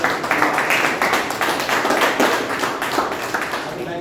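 Applause from the audience at a Toastmasters club session, a dense, steady patter of many hands clapping throughout, fairly close and even in level.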